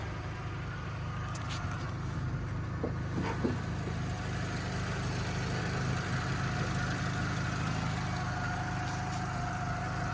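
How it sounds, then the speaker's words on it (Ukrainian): A Volkswagen Passat B6 engine idles steadily with a low, even rumble throughout, plus a few faint clicks partway through and no talking. "двигун працює чітко"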